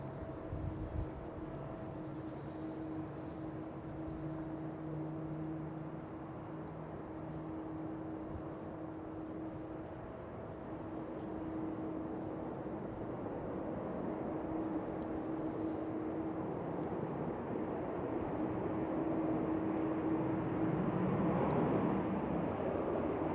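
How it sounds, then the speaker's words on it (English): KLM Boeing 737 airliner at Schiphol Airport, a distant steady jet roar with a whining engine tone that slowly swells louder over about twenty seconds against outdoor background noise. "And the next one is a KLM 737."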